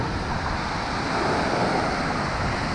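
Storm waves wash onto a shallow sandy city beach in Crimea, a continuous loud roar of surf with wind buffeting the microphone, steady and close throughout.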